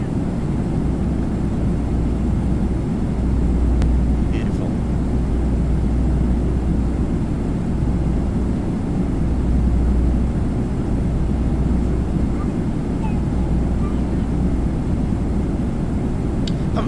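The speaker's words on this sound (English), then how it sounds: "There's the beautiful Rolls-Royce engines." Rolls-Royce engines of a PMDG 777-200 in a flight simulator give a steady, loud low rumble and drone that holds evenly throughout, with no talking over it.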